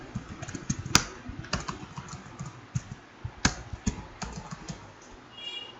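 Text being typed on a computer keyboard, with steady quiet key clicks in an irregular rhythm and a few sharper, louder keystrokes, close by and without any voices.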